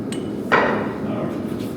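A single sharp hammer strike on a steel punch held against steel drops during blacksmith forging, close and alone against low background noise.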